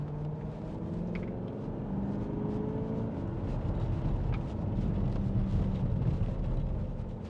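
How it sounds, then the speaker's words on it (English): A deep 4.2-litre V8 diesel engine of a 2016 Porsche Cayenne S rumbles steadily from inside the car, low and throaty, swelling slightly in loudness before easing off. "Listen to that engine."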